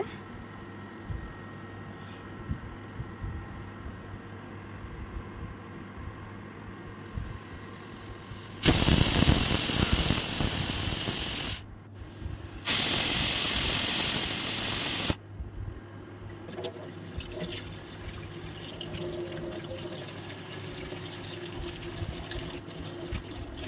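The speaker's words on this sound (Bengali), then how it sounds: "এভাবে কন্টিনিউয়াসলি হচ্ছে সিটিগুলো দিচ্ছিল আর রান্নাটা হচ্ছে" A pressure cooker lets off loud, steady hissing blasts of steam, two long bursts separated by a brief pause, standing well above a quiet kitchen background.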